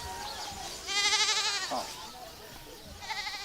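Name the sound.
goat bleating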